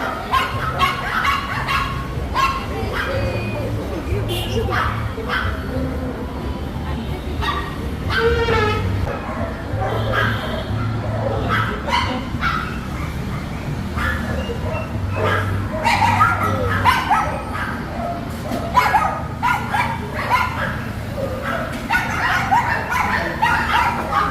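Several dogs and puppies at the K9 Restro hotel in Mangaluru bark and yip in repeated close bursts, mixed with some whimpering, while people talk nearby.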